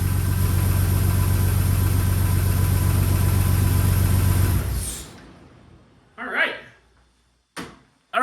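A Jeep XJ's freshly swapped 4.0 engine runs with a loud, steady, rumbling drone, then shuts off and winds down into quiet, after which voices talk nearby.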